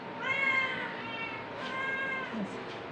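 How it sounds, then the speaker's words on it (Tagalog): Two cats meow loudly and repeatedly, their cries overlapping in a long, insistent, noisy stretch close by in a home kitchen. "Maingay yung pusa."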